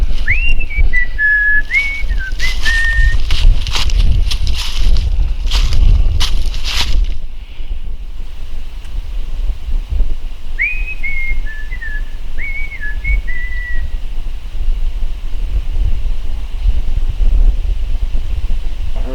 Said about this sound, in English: So I'll just whistle a little bit.